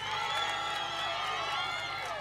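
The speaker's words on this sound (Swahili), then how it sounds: "Naomba tuwapigie makofi vijana." A large crowd at a CCM campaign rally in Geita roars with applause and cheering for the youth, a dense, loud wash of voices and claps that holds steady throughout.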